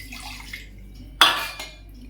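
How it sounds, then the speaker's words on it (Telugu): Water splashes into a cooking pan in a home kitchen, one sharp pour-and-splash burst with a short follow-up splash, close and fairly loud against a quiet background. "కొంచెం వాటర్ వేసుకొని దీంట్లో"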